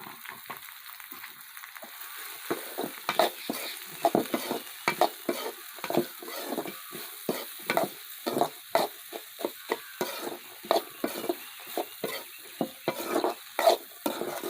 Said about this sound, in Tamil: எண்ணெயிலே தான் வேகணும் வெண்டைக்காய்.